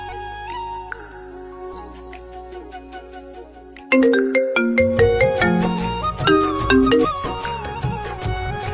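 A melodic phone ringtone plays while an outgoing call waits to connect, starting soft and sparse, then turning louder and busier with tumbling chiming notes.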